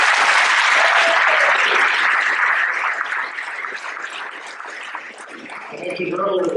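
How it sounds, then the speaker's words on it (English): A crowd at a school fall awards ceremony applauds the volleyball team. Dense, loud clapping fills the room and slowly thins out, and a voice comes in near the end. "Another round of applause for the volleyball."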